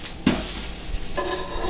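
Leftover idli-dosa batter frying crisp in a pan over a low flame, a steady close sizzle with a brief scrape or stir near the start and no talk.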